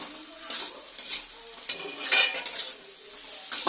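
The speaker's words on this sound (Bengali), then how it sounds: "ভালো করে আলুটা দিয়ে আমি মশলার সঙ্গে কষে নিয়েছি" Fried potatoes stirred with spices and tomato in a pan for a soybean dish: a soft sizzle under several distinct scraping strokes of a spoon against the pan, close and fairly loud, with no talking.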